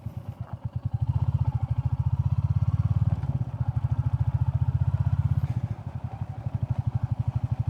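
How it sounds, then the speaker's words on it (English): Royal Enfield Classic 350 single-cylinder engine thumping steadily while riding on a gravel road, a close, rhythmic low chug that swells and eases slightly with throttle throughout. "it's like a small tractor."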